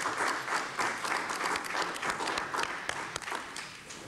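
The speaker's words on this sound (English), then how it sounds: "I think we should all give Mr. Crawford a great round of applause for his wonderful service." Members of a congressional committee hearing applaud for about four seconds, a moderate, fairly close burst of clapping from a modest-sized group that tapers off at the end.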